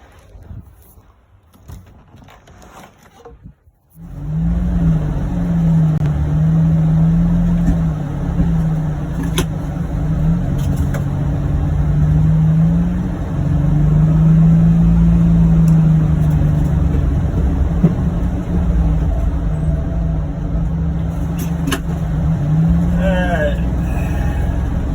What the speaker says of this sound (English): Snow plowing today with the John Deere Gator UVX 835M.